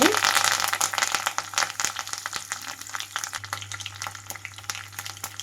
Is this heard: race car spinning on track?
no